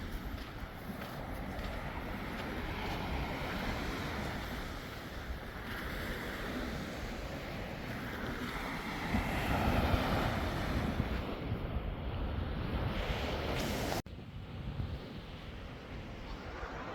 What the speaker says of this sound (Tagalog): Napakaganda ng dagat, malakas ang alon.